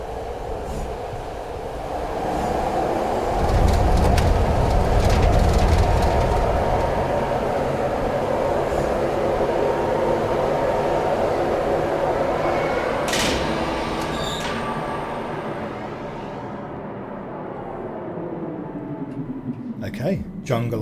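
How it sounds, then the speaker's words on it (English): A little in-game train carries the player along on a ride in the Riven remake, with a steady rolling rail rumble, a few clanks and a brief squeal, ending in a quieter stop. A voice talks over it. "It really wouldn't be a Cyan game without a little train."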